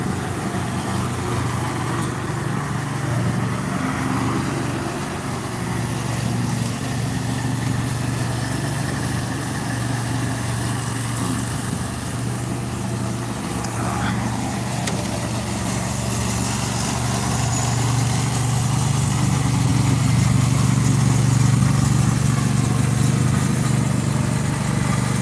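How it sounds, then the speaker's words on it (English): A tractor engine idles steadily and close by for the whole stretch, a constant low rumble that swells slightly louder near the end, with no talk over it. "It's a nice tractor though."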